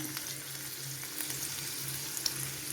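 Ginger, garlic and curry leaves frying in oil for beef pickle, a steady soft sizzle with faint stirring throughout, no voices.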